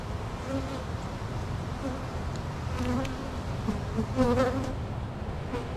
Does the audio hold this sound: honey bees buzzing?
yes